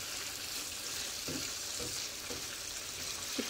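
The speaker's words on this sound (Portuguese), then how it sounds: "E agora a gente vai deixar ele fritar até dourar." Chicken pieces sizzle in a hot pan, a dense, even crackle throughout with a few soft knocks from stirring.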